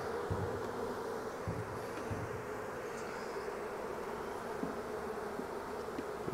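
Honey bees buzz steadily at a hive, a dense, continuous hum filling the air at moderate volume, with no voices.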